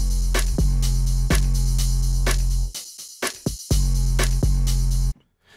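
Drum loop layered with a deep 808 bass loop in the Momentum software, sustained booming sub notes under crisp kick, snare and hat hits, loud and close, with a brief drop of the bass midway before it returns and then cuts off.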